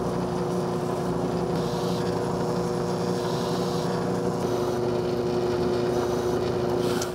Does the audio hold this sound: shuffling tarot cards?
no